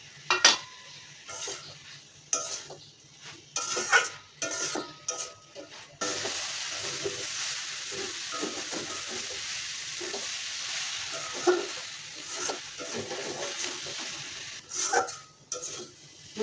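Prawns tipped into a pan of sizzling mixed leafy greens (khota or panchmishali shak), with frying hiss running steadily under repeated stirring, scraping and clinks of a utensil against the pan.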